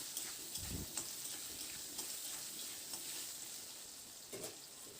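Potato pieces frying in a pan with salt and turmeric give a faint, steady sizzle, broken by a few soft clacks and stirring touches.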